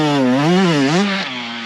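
A 1985 Honda CR500AF two-stroke dirt bike runs laps, its engine holding a loud, buzzing drone that rises and dips with the throttle before settling lower, heard close up.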